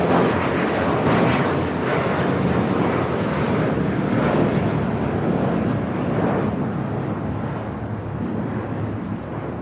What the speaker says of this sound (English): Turkish Dreamliner now rolling down at 24 left.